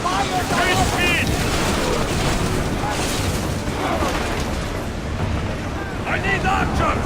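Steady roar of wind and rushing sea as a ship sails through open water in Assassin's Creed Odyssey, loud and constant throughout, with shouting crew voices and music layered over it.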